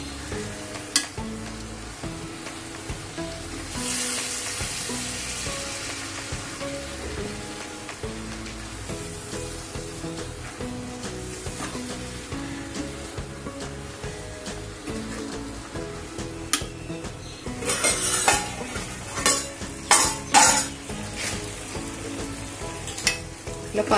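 Spinach sizzles and fries in a pan while being stirred, a steady crackling hiss throughout with a few louder scraping stirs near the end and no talking.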